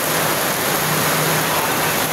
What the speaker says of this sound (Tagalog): Kasi Sergio, ang lakas ng ulan.